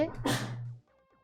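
A single sharp human sneeze at the start during a French-language online quiz session, followed by a brief quieter tail with faint background noise.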